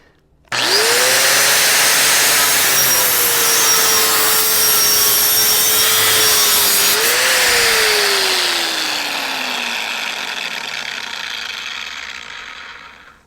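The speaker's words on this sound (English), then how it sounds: "I'm going to do that one more time, just to cut through there with pretty" A Metabo WP 13-150 six-inch angle grinder spins up into a loud, high whine as it cuts, its pitch dipping under load, then runs steadily before slowly winding down toward the end.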